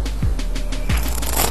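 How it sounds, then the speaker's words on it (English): A deck of playing cards riffle shuffled up close during a magic trick, two quick ruffling bursts of flicking cards, each ending in a soft thump as the halves are pushed together. "I give it a little riffle like this so that they know they're just supposed to riffle shuffle the cards together"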